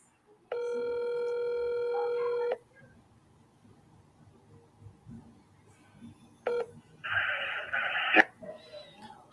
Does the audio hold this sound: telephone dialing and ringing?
yes